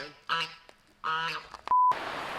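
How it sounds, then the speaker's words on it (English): A goose honks near a yurt, two loud, close, nasal honks spaced about a second apart, followed by a brief high tone and background noise. "There's been a noisy goose."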